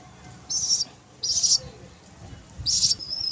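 Baby pigeons at a home pigeon sale give three short, high-pitched squeaking chirps, close by and spaced apart, with quiet between each call.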